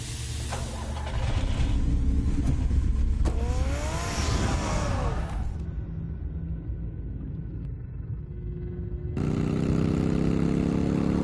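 A car engine in the Telltale Batman video game rumbles loudly and steadily, revving with rising pitch partway through, easing back to a lower idle, then surging again near the end, with no one speaking.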